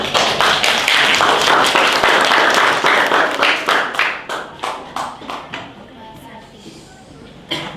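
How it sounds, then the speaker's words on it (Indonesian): A classroom group claps together, a dense burst of applause that breaks into slower scattered individual claps and dies away, with a final sharp clap at the end and some talk in the background. "Tepuk tangan dulu."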